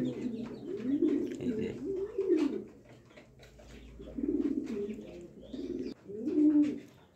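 Pigeons coo in a loft holding nesting birds, racer chicks and eggs, with repeated close, low rolling coos in bursts and someone speaking briefly.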